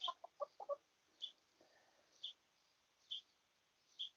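Backyard hens in a garden coop: a quick run of soft clucks at the start, then single short, fairly faint clucks at irregular intervals over a quiet background.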